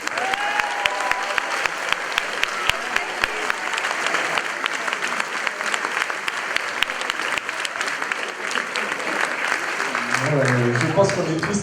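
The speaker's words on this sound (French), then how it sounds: "Et d'applaudir." Audience applause at an evening school show staging Dead Poets Society; sustained, crowded clapping with scattered sharper claps, and a voice begins talking over it toward the end.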